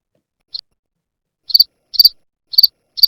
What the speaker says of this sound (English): I'm doing like crickets. we got that one too.